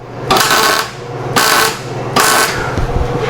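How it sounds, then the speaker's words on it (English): Arc welding on the outside corners of a steel screen press stand, three separate crackling bursts of about half a second each, close and fairly loud, with a low electrical hum in the short gaps between them. "I'll probably put a little bit of weld on the outside corners to keep it from torquing."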